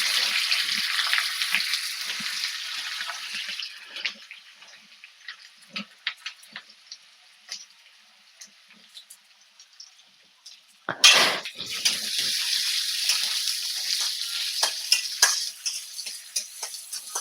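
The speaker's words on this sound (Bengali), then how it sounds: "পেঁয়াজটাকে ভালো করে ভেজে নেব" Finely chopped onions fry in a pan with a loud, bright sizzle that dies down to a faint crackle with scattered stirring clinks. The sizzle then bursts back to full strength.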